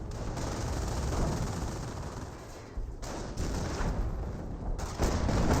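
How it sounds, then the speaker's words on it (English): Bofors cannon firing in Company of Heroes, a dense, continuous barrage of booming shots with brief dips in intensity, loud and close, with no talk. "We do have the Bofors cannon firing some shots"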